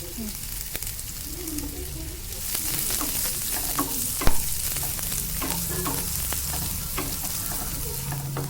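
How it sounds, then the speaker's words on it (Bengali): Onion fries in hot oil with a steady, bright sizzle, and a spatula scrapes and taps against the pan now and then, all close and continuous. "তেলের মধ্যে পেঁয়াজটা ভাজা ভাজা হয়ে গেলে"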